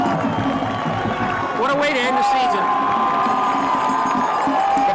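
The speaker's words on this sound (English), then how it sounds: "The fans are up on their feet. They're cheering." A vocal crowd roars and cheers in the stands at a 1984 high school football state championship game, Central Jersey Group 4, East Brunswick versus JP Stevens, going into the fourth quarter, a steady loud wash of voices under a commentator talking.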